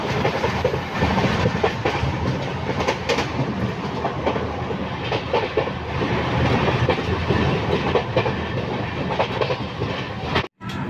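Superfast express train pulling into Tirupati station, a loud continuous rumble of rolling carriages with rhythmic wheel clatter over the rails, close by and sustained for about eleven seconds before a brief dropout at the end.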